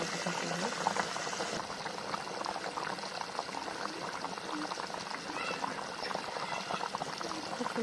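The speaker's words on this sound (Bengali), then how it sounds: "এখন আমি এর মধ্যে দিয়ে দেবো গরম পানি।" Hot water pouring into a duck meat bhuna curry, followed by steady simmering; a dense continuous bubbling and pouring wash runs throughout at moderate level, with no talk.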